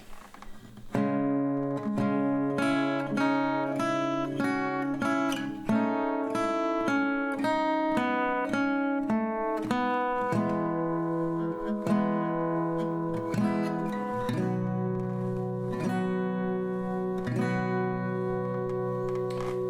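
Slow plucked chords on an acoustic guitar with a song's melody woven through, notes ringing out steadily and close, no voices.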